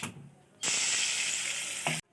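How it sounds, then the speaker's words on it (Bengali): Potatoes hit hot mustard oil and sizzle loudly and close up for over a second after a quiet start, then the frying noise stops abruptly. "আলু ভাজার জন্য সরষের তেল দিলাম।"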